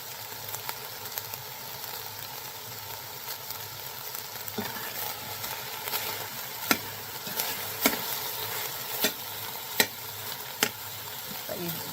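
Beef browns and sizzles steadily in a hot Instant Pot, with a constant crackling hiss and occasional sharper pops and scrapes throughout.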